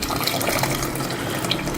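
Hot water pours steadily into a pot with sugar in a continuous rushing stream, close and fairly loud, with no talking.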